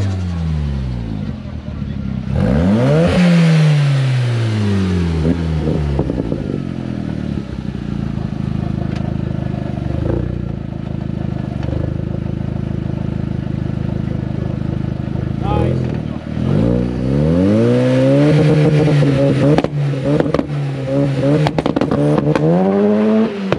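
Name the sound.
turbo swapped Toyota MR-S launching hard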